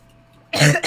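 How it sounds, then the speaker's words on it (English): A single loud, close cough bursts out of near silence, a harsh rasping hack followed by a short second catch. "Sorry about the cough."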